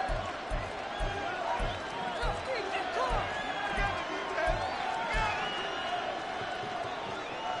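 Steady roar of a football stadium crowd at a Miami Dolphins game, rising as fans try to force a false start on third and inches, with rhythmic thumping beats pulsing beneath and commentators talking over it.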